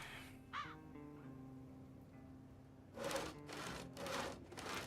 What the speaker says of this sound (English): Well, let's get to sawing.